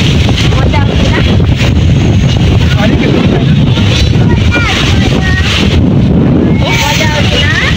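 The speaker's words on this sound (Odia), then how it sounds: "ପବନ ପବନ କେତେ ଜୋର ଦେଖୁଛ ନା ପବନକୁ" Strong wind buffets the microphone continuously beside open water near a boat landing, a loud, steady roaring rush with gusting swells, while a person talks over it throughout.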